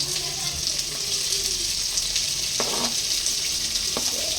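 Chopped onions frying in heated coconut oil in a home kitchen, a steady close sizzle with occasional stirring scrapes and clatters of a utensil against the pan.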